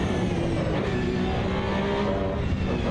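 Race car engine from the Assetto Corsa EVO sim racing game, a loud, steady close-up exhaust drone held at constant high revs for the whole stretch, with no talk over it.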